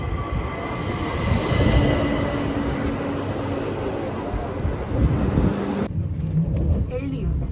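A train moves through a railway station in Graz, Austria, with a loud, close rumble and a high metallic wheel squeal over the first seconds, then the noise thins out abruptly toward the end.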